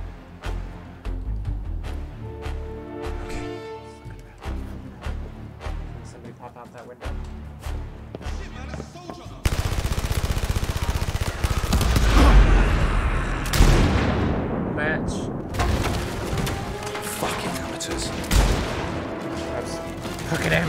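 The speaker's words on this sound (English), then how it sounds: "As I shoot myself in the leg." Gunfire from a shotgun and an SMG held one in each hand in the video game Blood and Truth: dense, loud bursts of shots that grow heavier halfway through and run on continuously under music and game noise.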